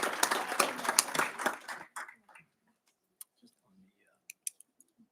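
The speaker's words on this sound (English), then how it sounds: "Let's give these ladies one more round of applause, please." Applause for a group of women at a school board meeting, a short round of clapping that fades out within two seconds, followed by faint scattered knocks and shuffles in a quiet room.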